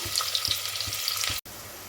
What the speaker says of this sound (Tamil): இப்போ வெங்காயம் நல்லா வதங்கிடுச்சு, நல்லா பொன்னிறமாக நல்லா வதங்கிடுச்சு